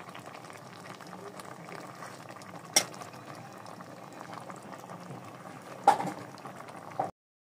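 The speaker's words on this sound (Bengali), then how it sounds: "এরপর এরকম হালকা হালকা করে নাড়িয়ে নিতে হবে।" A pot of fish paturi with Malabar spinach leaves simmers with a soft, steady bubbling while it is gently stirred. Two sharp clinks of a utensil against the pot ring out, and the sound cuts off abruptly at the end.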